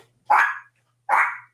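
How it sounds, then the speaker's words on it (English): A dog gives two sharp, close barks about three-quarters of a second apart, with quiet in between and no talking. "That's my dog."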